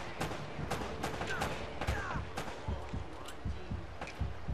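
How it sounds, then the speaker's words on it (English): Gunfire from enemies in Uncharted: Drake's Fortune on PS3, a busy stream of repeated shots and impacts layered over game sound at moderate level. "I'm getting shot."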